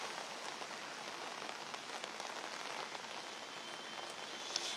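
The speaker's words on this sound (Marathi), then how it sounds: "सकाळपासून पावसाची रिपरिप जी आहे ती मुंबईमध्ये सध्या सुरू असलेली बघायला मिळते आहे" Steady, dense rain pours onto a Mumbai street, a continuous broadband hiss of drops on hard surfaces with no talk, unbroken for the whole stretch apart from one small sharp tap near the end.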